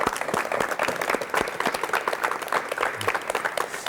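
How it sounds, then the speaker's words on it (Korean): A studio audience on a 1986 KBS television talk show gives a guest a dense, steady round of applause, many hands clapping together at close range for the whole stretch without fading. "박수로 맞이해 주십시오."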